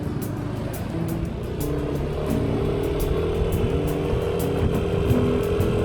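A motorcycle cruises along a rural road between Cikijing and Lembur Pakuan, Subang, its engine a steady close drone with rising revs and wind noise, no one speaking.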